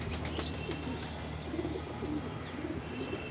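Homing pigeons cooing in a loft before a training flight, soft low murmuring coos repeating close by over a steady background hum, with a faint high chirp early on.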